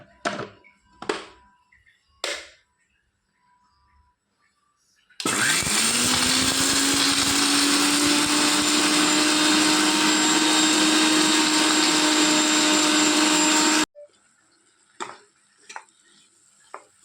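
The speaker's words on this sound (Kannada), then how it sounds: "ಈಗ ಫ್ರೈ ಮಾಡಿ ಇಟ್ಟ ಎಲ್ಲ ವಸ್ತುಗಳನ್ನು ನಾವು ಮಿಕ್ಸಿಯಲ್ಲಿ ಪುಡಿ ಮಾಡುವ." A mixer grinder powders fried spice ingredients in one loud, steady whine lasting several seconds, with scattered knocks and clatter before and after.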